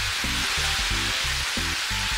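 Chips sizzle steadily on a grill in the VR cooking game Grill on Wheels, a constant bright hiss with a rhythmic low tone pulsing underneath, no talking.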